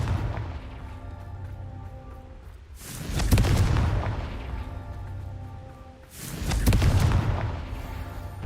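Two rumbling blasts of the Confringo explosive spell in Hogwarts Legacy, a few seconds apart, each swelling and then fading over a low background hum, with no speech.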